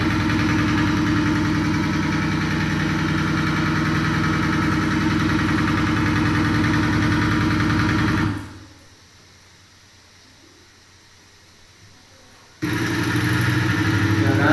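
A tractor engine idles at a vocational school, a steady, throbbing low rumble that drops out abruptly partway through, leaving near-silence for a few seconds before the running engine sound returns.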